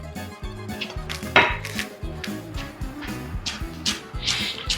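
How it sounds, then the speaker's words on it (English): A knife rough-chopping a rolled bundle of fresh mint on a board, rapid, fairly loud rhythmic thuds and knocks repeating steadily throughout. "I'm just going to kind of roll this up and do a rough chop"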